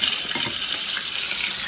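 Potatoes, a pork chop and calamari fry in a pan, giving a steady, close crackling sizzle with no talk over it.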